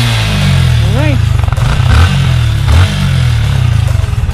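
A Yamaha Sniper 155 motorcycle, about 2 years and 10 months old, idles close by with a steady low engine thrum and a couple of brief blips, while someone talks over it.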